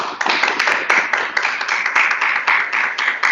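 A small audience at a talk gives the speaker a round of applause, with close, steady clapping in slightly pulsing waves and no voices.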